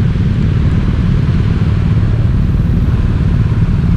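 A 2023 BMW R1250R boxer-twin motorcycle idles close by, giving a loud, steady, low throbbing pulse with a tractor-like vibrating rumble that runs without a break.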